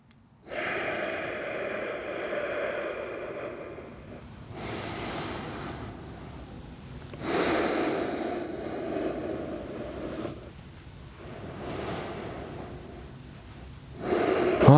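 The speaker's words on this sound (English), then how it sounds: "I'm going to just try to stay on this and breathe." Deep, slow breathing while lying on a foam roller to ease lower back stiffness, with several long drawn inhales and exhales close by, some ending in audible sighs and snorts, and no talking.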